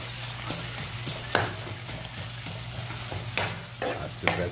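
Canned tuna frying with turmeric and chili spices, a steady sizzle with repeated stirring scrapes and a few sharp clacks of the utensil against the pan, close and alone.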